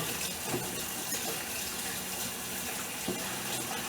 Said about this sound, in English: let me just wash my hands because they're all sticky now